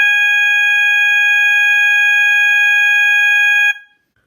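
A System Sensor MASS fire alarm blares its default tone, one loud, steady, piercing electronic horn held for several seconds before cutting off abruptly into silence.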